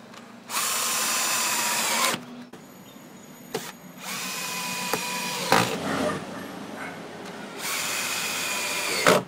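A power drill drives screws to fix wooden fascia plates onto a shed, running in several loud close bursts with short pauses and quieter handling noise between them.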